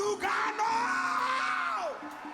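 A live concert audience in Lugano lets out a sustained, loud roar of screams and yells for about two seconds, a dense wash of many voices that drops off briefly near the end.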